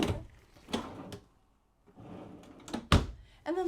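Drawers in a Back Country 21BD off-road trailer being handled, giving a few sharp thunks and short sliding knocks at close range, separated by brief quiet gaps.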